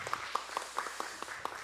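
Sparse, separate claps in a church service as the congregation gives thanks to the Lord, a handful of distinct hand claps in an irregular rhythm, fairly faint and distant with no voices over them.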